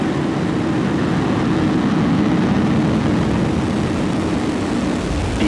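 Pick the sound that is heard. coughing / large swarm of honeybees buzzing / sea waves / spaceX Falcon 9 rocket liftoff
spaceX Falcon 9 rocket liftoff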